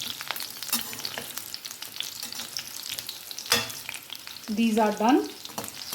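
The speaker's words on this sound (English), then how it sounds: "Fry this till the gourd gets a light color on them." Pointed gourd frying in traditional mustard oil, a steady close sizzle and crackle with occasional stirring scrapes of a utensil, plus a brief high squeal of the pan near the end.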